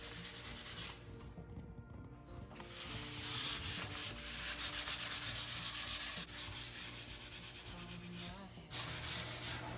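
Hand sanding with 400 grit sandpaper on a DIY countertop for a skoolie bus makes a steady, close rasping rub, pausing briefly then resuming in repeated back-and-forth strokes.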